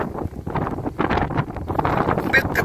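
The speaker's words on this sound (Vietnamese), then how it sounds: "Gió mưa thiệt." Gusty wind blowing outdoors during rainy weather, a continuous rough rushing and buffeting that swells and eases over a couple of seconds.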